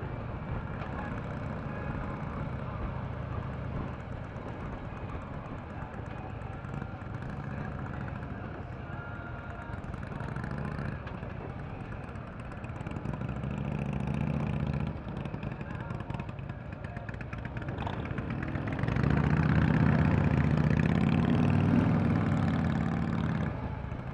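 A 2014 Harley-Davidson Ultra Limited with a 103 ci engine idles steadily nearby, a low rumbling throb that swells louder toward the end.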